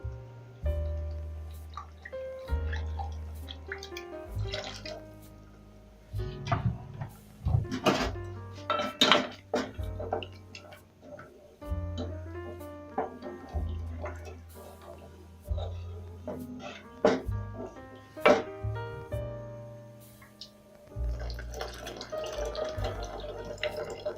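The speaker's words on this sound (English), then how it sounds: "And I'm going to rinse this glass with some hot water." A glass is rinsed with hot water at a kitchen sink while cooking egg curry, with clinks of glassware and dishes, splashes and drips running under intermittent talk.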